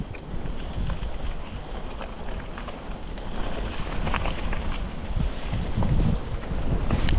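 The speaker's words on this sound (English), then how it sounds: "It's a bit windy as well" Wind roars across the microphone while a bike rides outdoors, a constant loud rushing noise with no voices.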